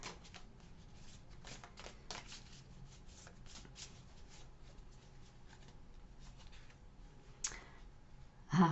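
Tarot love cards are shuffled by hand, a steady, soft riffling and flicking of the deck close up, with a few sharper clicks near the end.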